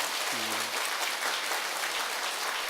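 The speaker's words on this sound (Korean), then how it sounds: "우리 박수 한번 치고 넘어가게." Applause at a sales academy lecture in Korea, a steady faint wash of clapping from the audience, with a brief low tone near the start.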